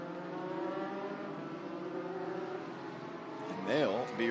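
Legends race cars run behind a pace car at Nashville Fairgrounds with a steady, droning engine hum. Near the end, a rising and falling engine whine cuts through.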